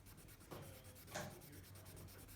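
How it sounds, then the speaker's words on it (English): Charcoal and graphite pencil rubbing over paper to fill in circular swatches, a soft, close, steady scratchy scrape with a couple of firmer strokes, quiet and continuous without talk. "create 2 circular swatches and fill them in with charcoal and graphite"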